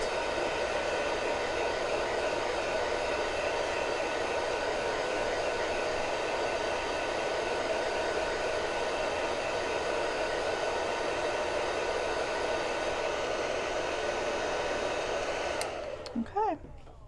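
A heat dryer blows on chalk paste paint drying on a craft pail, a steady close whooshing drone that holds evenly for many seconds before switching off near the end.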